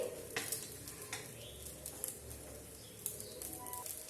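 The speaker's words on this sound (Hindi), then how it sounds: "मैं थोड़ा सा फ्राई कर रही हूँ, ताकि खाने में और भी ज्यादा टेस्टी लगे।" Small besan idli pieces fry in a light coating of oil, giving a soft, low sizzle with occasional scraping stir clicks, fairly quiet and close, with no talking.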